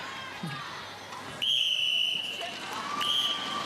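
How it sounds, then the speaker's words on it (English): A referee's whistle signals half-time at an ANZ Championship netball match between Magic and Pulse in 2010, at the Energy Events Centre. One long, piercing blast is followed by a shorter one, both sounding over steady crowd noise. "And that is the whistle for half-time."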